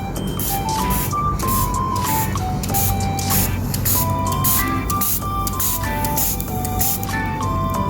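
Vinegar sprayed onto a baking soda dinosaur egg, repeated hissing spritzes mixed with a busy crackling fizz of the reaction, close and steady throughout, no talking.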